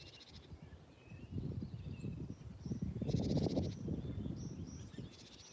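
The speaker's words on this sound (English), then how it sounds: "let's take a minute just to listen to the birds." Birds sing in a town: intermittent chirps and short trilling phrases, moderately close, over a murmuring background of low ambient noise with soft indistinct sounds.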